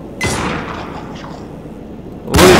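A gunshot fires in the first-person shooter Anabiosis: Dream of Reason, a sharp loud burst near the start that decays into a reverberant tail, followed by a second blast at the end.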